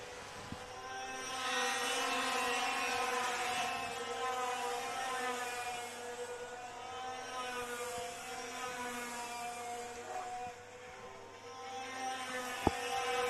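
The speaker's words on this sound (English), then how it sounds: "His X30 engines are screaming around here." X30 racing kart engines screaming around a circuit at a race of champions event, a sustained high-pitched, harmonically rich whine rising and falling as several karts pass, with a sharp click near the end and no talking.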